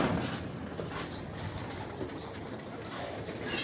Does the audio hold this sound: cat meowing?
no